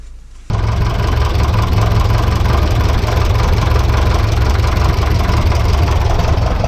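A vintage petrol engine fires up after servicing and settles into a loud, steady idle with a rough, throbbing rumble, close by and unbroken, with no speech.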